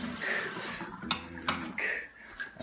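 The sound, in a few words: rinsing off a spoon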